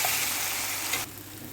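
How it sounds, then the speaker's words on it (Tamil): Ground rasam paste sizzles and fries steadily in hot oil in a pan. The hiss is loud and close, then drops abruptly to a quieter simmer near the end. "இப்போ இதை நல்லா எண்ணெயில் பச்சை வாசம் போகிற அளவுக்கு வதக்கிக்கலாம்"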